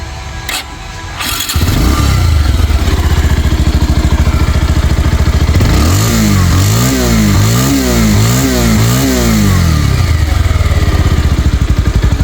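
A second-hand Bajaj Pulsar 150 twin-disc motorcycle cranks and catches. Its engine settles into a loud, close idle, then is blipped through several quick rhythmic revs before dropping back to a steady idle.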